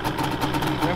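Yamaha Banshee engine idling steadily right after being rebuilt, a continuous close rumble with a low, even throb running through the whole second.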